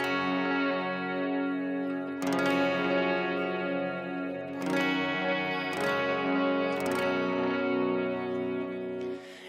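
Electric guitar with effects, capo on, ringing open chords struck as sustained whole-bar diamonds, with a few fresh strums letting each chord wash out under chorus and echo, steady and unaccompanied.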